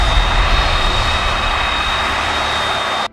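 The turbofan engines of a C-5M Super Galaxy roar in a loud, steady, broadband rush with a thin high whine on top, holding constant before cutting off abruptly.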